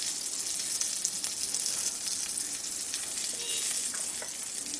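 Small shrimp wrapped in taro leaf parcels frying in a pan, a steady bright sizzle up close with faint bubbling underneath and no talking.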